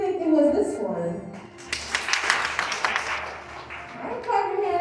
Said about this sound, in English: clap your hands if you think it was this one